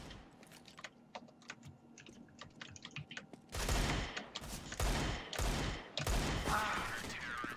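Gunfire in the game CS:GO: loud bursts of shots begin partway through, several close rapid volleys, preceded by steady keyboard typing and clicking with no talking.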